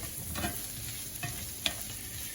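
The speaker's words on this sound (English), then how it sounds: "and then they will start to fry as well. So you want to get a little bit of a fried note on the mushies." Mushrooms frying in butter, rendered bacon fat and olive oil give a soft continuous sizzle with a few faint stirring scrapes and one small tick.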